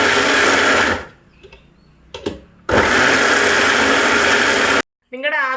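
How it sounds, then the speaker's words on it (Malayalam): A kitchen blender whirs loudly as it grinds guava with milk and sugar for a shake, running in two long bursts separated by a pause, then stopping abruptly before a voice speaks. "നമ്മൾ പാലൊന്ന് കുറുകുന്ന വരെ നമ്മളിങ്ങനെ ഒഴിച്ചൊഴിച്ച് നമ്മളിതൊന്ന് അരച്ചെടുക്കണം"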